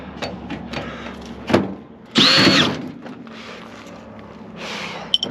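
A power drill backs screws out of the rear panel of a scrap microwave, with a short whirring burst near the start and a louder, sustained high-pitched run in the middle, then quieter rustling and handling noises.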